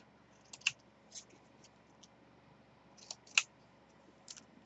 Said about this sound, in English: I'm going to go ahead and cut the corners off